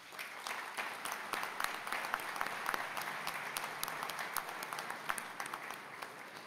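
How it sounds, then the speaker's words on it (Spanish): Steady audience applause at a ministry event honoring staff of the Ministry of Industry, Energy and Mining, dense overlapping claps at moderate distance with sharper individual claps standing out, continuous throughout. "les pido un aplauso para ellos"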